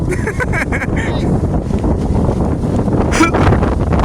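Strong, cold wind buffets the microphone during a guava harvest outdoors, a steady broadband rush that never lets up, with faint talk underneath.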